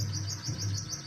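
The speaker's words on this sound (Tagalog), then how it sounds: "Huni ng ibon?" Birds chirping in the Philippine countryside, a repeating series of clear high tweets over a low steady hum, moderately near and alone without talk.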